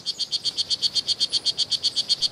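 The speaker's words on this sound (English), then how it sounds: "Even though they're less than an inch long, these frogs can produce quite a sound." A strawberry poison dart frog (Oophaga pumilio), less than an inch long, calls from Bastimentos Island in a fast, even series of sharp high-pitched buzzy chirps, about eight per second, clear and close.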